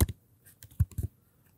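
Computer keyboard keys being typed, a handful of soft clicks in an uneven burst with short pauses, close and fairly quiet, no talking.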